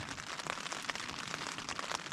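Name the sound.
rain falling in the Jotunheimen mountains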